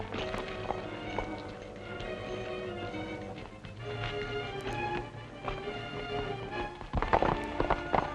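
Faint hoofbeats of ridden horses clopping along under a busy bed of music in a 1936 Western film, ending in a louder flurry of clattering hooves.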